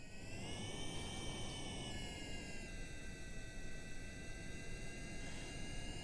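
Rocket engines of a craft rolling on a runway in Kerbal Space Program, a loud steady roaring whine with layered tones that shift pitch slightly, continuous and alone.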